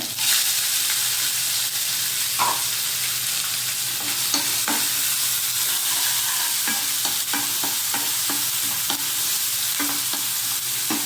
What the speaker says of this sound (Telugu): ఇప్పుడు ఓ 4 పచ్చిమిరపకాయలు, ఉల్లిపాయ వేస్తానండి దీంట్లో.